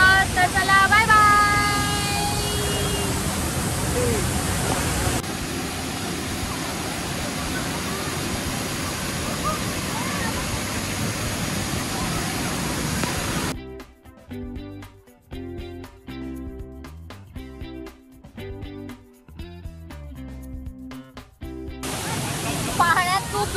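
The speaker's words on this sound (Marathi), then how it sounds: "एवढा मोठा वॉटरफॉल आहे. खूप मोठा वॉटरफॉल आहे." Kondi waterfall near Alibag produces a steady broadband rush of falling water for the first half. This gives way to a stretch of music and voices before the rushing water returns.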